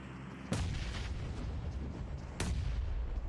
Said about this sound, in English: a nice little nade coming through from Xenox